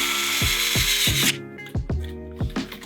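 A cordless screw gun drives and tightens screws on a Onewheel GT electric skateboard. A steady motor whine runs for about a second, then several short, sharp ratcheting bursts follow as the clutch clicks out, each close and distinct.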